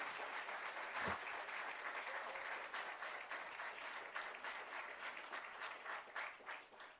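A council chamber audience applauds the newly selected Mayor Barcena, with steady, dense clapping lasting the whole stretch and a brief thump near the start.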